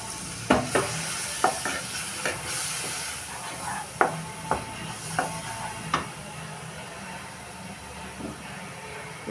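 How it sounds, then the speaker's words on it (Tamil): Ground spice masala for a dhaba-style chicken curry hisses and sizzles in a hot pan as a little water is poured in, with soft scraping stirs and occasional sharp clinks of a spoon against the vessel, close and moderately quiet. "பொடியெலாம் கருகக்கூடாது, அதனால் கொஞ்சமாக தண்ணி ஊற்றிக்கிறேன்."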